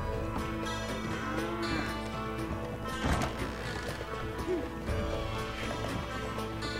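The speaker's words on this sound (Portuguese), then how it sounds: "Meu Deus, a vaca tá aqui também." A cow lows in the video game Red Dead Redemption over a bed of game music and ambience, with a brief thud near the middle; the moo is moderate in level, not close or loud.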